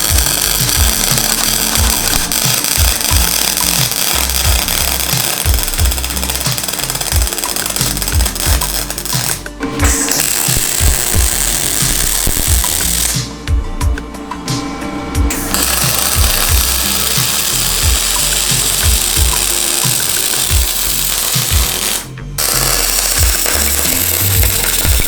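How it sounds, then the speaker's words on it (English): Welder laying a fat bead across a DIY angle kit on a 240SX drift build, a loud continuous crackling buzz close up that breaks off briefly a few times before restarting. "Now I'm gonna lay a fat bead across the top."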